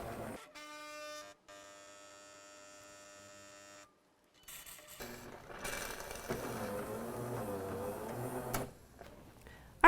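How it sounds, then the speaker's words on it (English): A JURA ENA 4 coffee machine brewing: a steady tonal mechanical hum with a brief pause, then a louder, rougher whirring and gurgling as the coffee runs, heard close with no talking. "And it'll start brewing."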